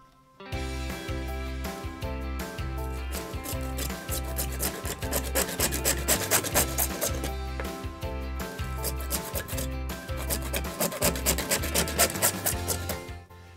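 A saw rasps back and forth in a steady, rhythmic stroke, close and loud, cutting through PVC pipe for over ten seconds.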